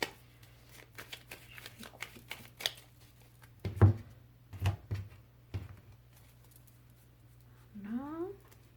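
A deck of tarot-style cards is cut and shuffled close by. There are scattered soft riffles and slaps, with a cluster of sharper card snaps in the middle, and quiet speech-like sounds near the end.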